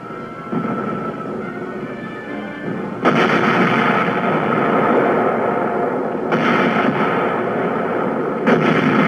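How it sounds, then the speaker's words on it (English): Artillery fire in a war newsreel: heavy booming blasts with echoing rumble, a big report near three seconds and more at about six and eight and a half seconds, loud and close over a continuous battlefield roar. "artillery fire is called for to loosen enemy supporting areas."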